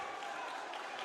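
Maclay fans clap at a high school basketball game against Chiles, a brief burst of crowd applause filling the gym, fairly close and steady for about a second.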